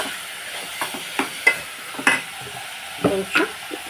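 Onions sizzling in a pan as they are stirred: a steady soft fry hiss broken by a string of light scraping clicks and taps at uneven intervals, close by, no voices.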